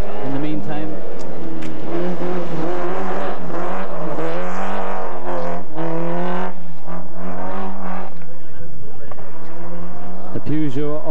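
A Peugeot rally car driven by Noel Farrell at the 1989 Carlow Rally roars past loud and close, its engine note rising and falling, with someone speaking over it throughout.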